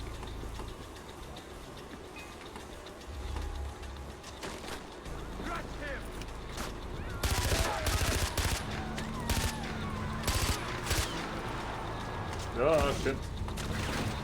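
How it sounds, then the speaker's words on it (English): Enemies fire on the player in a shooter video game, sharp gunshot bursts and rattling volleys breaking out in the second half over a low in-game rumble, while a player's voice exclaims in alarm. "They're shooting me."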